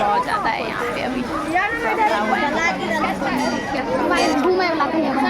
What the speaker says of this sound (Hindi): तो ऐसे ये भीड़ बहुत ज़्यादा है यहाँ पे अभी।